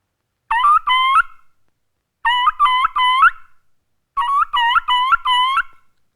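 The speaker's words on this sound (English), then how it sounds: "Then I want you to achieve a high-pitched sound, something like this." High, chirping whistles from a turkey mouth call come in three short bursts, each a quick run of three or four yelps separated by silence, like a turkey.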